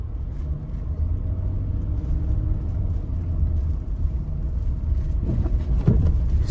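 A diesel Kia Mohave pulling away through winter snow, its engine giving a steady, close, loud rumble throughout, with no voices.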